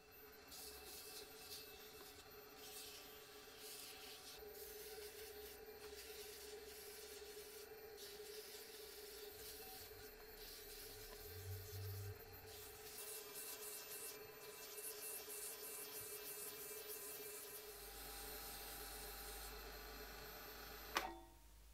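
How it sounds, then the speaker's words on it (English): Steady, continuous hand sanding with fine 400-grit sandpaper on a vintage 1987 Micro Machines toy car, soft and close, with a brief sharp knock near the end. "I'm able to start sanding at 400 grit"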